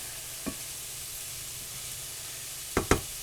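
Beaten eggs are poured into a hot pan of softened peppers and onions for steak breakfast burritos, giving a steady, moderate sizzle broken by a few sharp utensil knocks.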